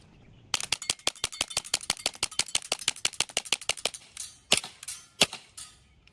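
An airsoft gas gun test-fired through a full magazine of about 23 rounds, with a rapid run of sharp, loud pops in steady rhythm, then a few spaced final shots, close and without talk.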